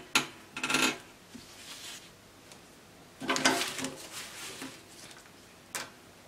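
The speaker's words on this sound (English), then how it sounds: "So I'm using my shear scissors to cut it out" Shear scissors cut fabric for an off-shoulder padded dress, making short, crisp snipping bursts close to the microphone with quiet pauses between them.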